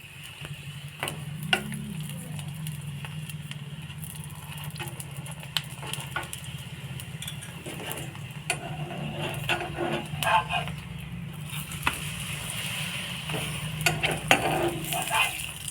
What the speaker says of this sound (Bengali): দুপাশ ভালো করে একটু ভেজে নিয়ে তারপর আমি তেল দিয়ে দেব।